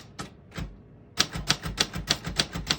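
A 1967 Royal Aristocrat vintage portable typewriter under function test, two isolated key strikes followed by a pause, then a fast, steady run of about nine crisp, close mechanical clacks.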